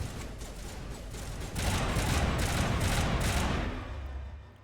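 Sniper rifle fire in the Mass Effect video game: a rapid run of sharp gunshot bursts swelling into a dense, loud volley of gunfire and battle noise, with no talk over it.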